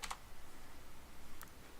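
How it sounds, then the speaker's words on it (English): A few light clicks of keys being pressed on a computer keyboard, two quick taps near the start and another moment later, faint over a soft background hum. "Press 7 on your keyboard. I'm going to press 3."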